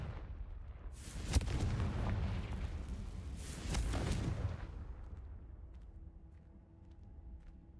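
Two heavy blasts from a Confringo spell in the Hogwarts Legacy video game, each a loud boom with a rumbling tail, the second following about two and a half seconds after the first before fading to a quiet hum.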